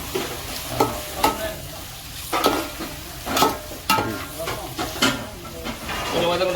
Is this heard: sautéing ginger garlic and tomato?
yes